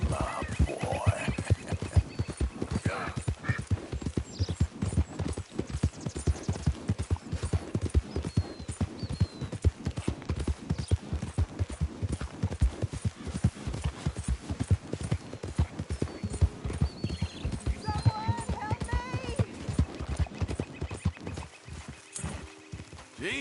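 Horse hooves clip-clop steadily in the Red Dead video game, a dense, continuous rhythm of walking or trotting strikes up close, with an occasional whinny and no talk over it.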